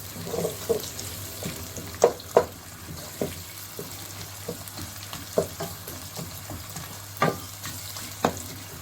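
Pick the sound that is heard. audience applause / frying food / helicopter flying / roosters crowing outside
frying food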